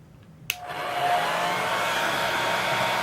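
A hair dryer clicks on with a sharp snap and then blows a steady, whirring roar, close and constant, held near hair being dried, with no one talking.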